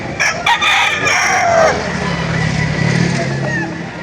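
Roosters crow loudly and chickens cluck at the Lipa livestock auction market, with a long crow rising early and a lower cackling chorus carrying on beneath, close and busy.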